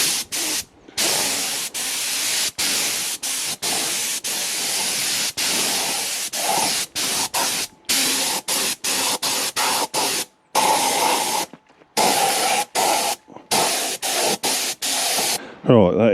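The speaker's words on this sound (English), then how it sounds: "Right, that's dried a treat. Time for the second coat." A second coat of paint is sprayed onto a front linkage in repeated bursts of hissing aerosol, each lasting a second or so and split by short silent gaps.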